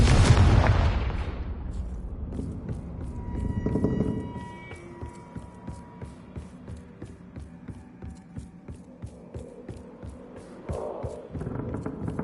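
In a wizard video game, a Confringo blasting curse sets off one heavy, close explosion that booms and rumbles away, followed by a quick run of regular, quieter ticking pulses.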